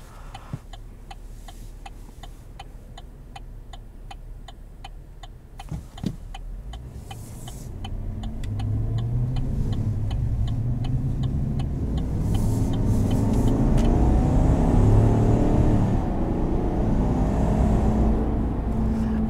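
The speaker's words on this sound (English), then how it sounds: "You can hear all the induction noise, which is crazy." Engine induction noise from a 2020 Chevrolet Silverado 1500 Z71, heard from inside the cab as a low intake roar that swells and stays loud after a quieter stretch with steady ticking, like a turn signal.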